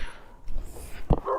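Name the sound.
dog barking in the street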